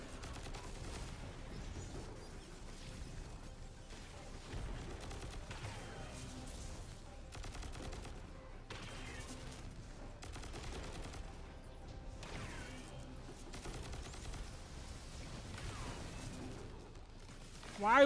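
Rapid bursts of gunfire from the video game Destiny 2, dense and continuous over a busy game mix, with talk occasionally over the top.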